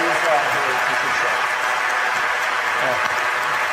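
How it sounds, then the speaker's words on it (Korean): A church assembly applauds two newly elected officials, a vice moderator pastor and an elder, with continuous dense clapping filling the hall evenly from start to finish, faint voices mixed in. "박수로 받아주시면 좋겠습니다."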